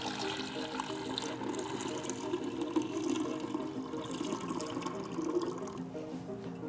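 Water poured off a lapis lazuli pigment dough during washing, a steady continuous splashing and trickling at moderate level with a tonal hum underneath, no voices.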